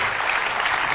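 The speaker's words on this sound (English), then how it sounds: "May I once again request you to give His Holiness a warm round of applause" Warm round of applause for His Holiness at a talk on the press and ethics: dense, steady clapping from a large audience, filling the whole moment without pause.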